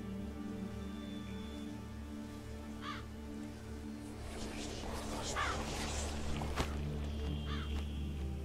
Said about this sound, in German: Was war das? Ein Rabe.